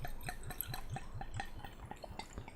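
Pear cider is poured into a glass, a faint, quick run of rhythmic glugs and splashes from the bottle into the vessel, quiet and close with no talking.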